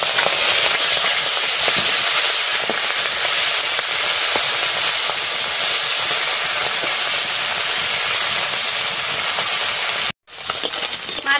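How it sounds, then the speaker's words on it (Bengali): Stinging catfish fry in a pan with a loud, dense hiss of sizzling oil close by. The sound runs steadily, briefly cuts out near the end, then resumes, with no speech. "মাছ ভাজা বসাই দিচ্ছি।"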